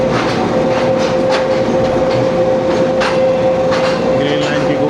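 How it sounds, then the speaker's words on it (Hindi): Subak Raftar railcar running on the Rawalpindi to Lahore line in monsoon weather, a steady loud interior rumble with a constant hum and faint rail clicks throughout, heard from inside the coach. "rail car"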